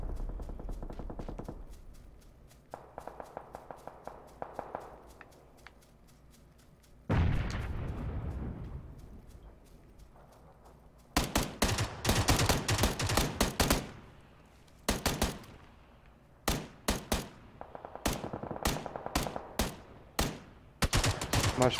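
PUBG gunfire in a duos match comes in scattered single shots and then dense rapid bursts that crack loud and near, with pauses of quieter ambience in between.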